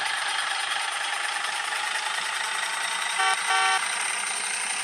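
The horn of a first-generation Isuzu D-Max pickup in the game Draw Bricks gives two short honks near the end, loud over a steady diesel engine drone.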